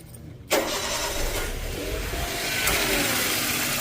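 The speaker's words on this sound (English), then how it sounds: "I'm going to start the vehicle." A 2001 Toyota Corolla engine cranks and catches at once, then settles into a steady, loud mid-pitched run that swells slightly near the end, close to the microphone with no talking.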